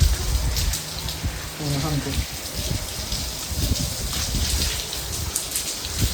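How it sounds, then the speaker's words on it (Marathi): Heavy monsoon rain in Mumbai falls in a steady, loud hiss, and someone speaks briefly over it. "खतरनाक पाऊस आहे"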